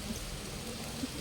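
Rain falling during a monsoon downpour at a home, a faint, even hiss of drops with no voices.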